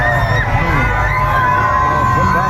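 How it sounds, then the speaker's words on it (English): A crowd out in the streets of Atlanta cheers for Donald Trump, loud continuous shouting, whooping and yelling from many voices close by, with overlapping calls throughout. "People out in the streets cheering for Donald Trump"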